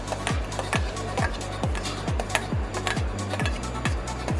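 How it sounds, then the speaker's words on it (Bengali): A knife chops cucumber into cubes on a cutting board, making a steady run of quick, evenly spaced knocks. About a dozen close, crisp taps sound over a faint background hum. "আমি শসাটা কিউব করে কাটছি"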